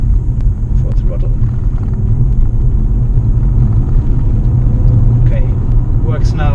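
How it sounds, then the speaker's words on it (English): A plug-in hybrid car accelerating at full throttle from about 10 km/h, giving a steady, loud low rumble of drivetrain and road noise throughout, with people talking over it. "we're down to 10 kilometers per hour and full throttle"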